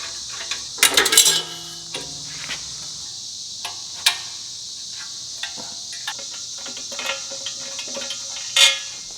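A metal turbo header is taken apart and carried to a welding table, with a cluster of metallic clanks and rattles early on, then sparse clinks and knocks over a steady hiss.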